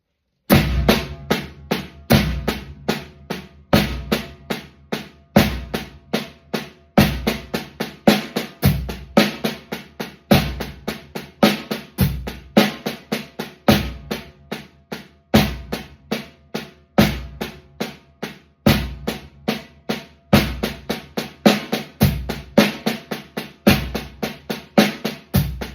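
A drum kit plays a single paradiddle pattern grouped in fours and then in sixes. The strokes are steady and rhythmic, with regularly accented hits, played close and loud for about 26 seconds with no talking.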